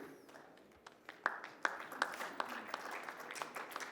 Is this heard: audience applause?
yes